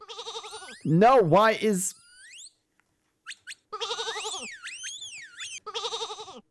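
Cartoonish sheep in a small indie video game give warbling electronic bleats, a loud wavering cry, then several repeated bleats, while someone comments over them.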